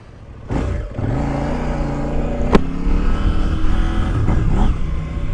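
A KOVE 800X adventure motorcycle engine runs steadily and revs up in waves, with a sharp mechanical click partway through and no voices.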